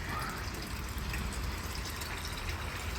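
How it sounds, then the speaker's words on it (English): A pond water test sample for a Colombo test kit is stirred in a small container, a faint, soft continuous swishing of liquid with no voices. "Give it a stir with that."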